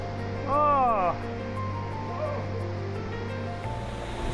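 Steady roar of the waterfall at Matilija Grotto Falls in the Los Padres mountains, a continuous rushing wash of falling water close by, with a person talking briefly over it near the start.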